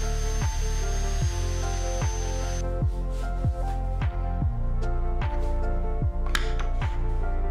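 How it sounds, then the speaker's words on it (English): A power drill with an 8mm bit whirs steadily while boring into a table saw sled made of HMR board, sharp evenly spaced bursts repeating about every half second, with no voices. "Then drill using drill bit 8mm."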